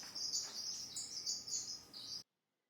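Aviary birds in a cage chirping in quick bright bursts, a close flurry of overlapping tweets that cuts off abruptly into silence.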